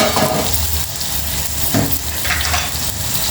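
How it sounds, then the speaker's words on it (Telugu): Bottle gourd (sorakaya) pieces frying in a little oil, a loud close sizzle with frequent scraping stirs of a spatula, no voices over it. "చూడండి సొరకాయ ముక్కలు ఇట్లా ఒక రెండు నిమిషాలు కానీ మూడు నిమిషాలు కానీ ఇట్లా మనం కొంచెం ఆయిల్లో ఫ్రై చేసుకున్న తర్వాత"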